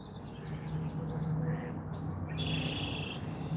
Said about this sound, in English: Lots of bird sounds, yep.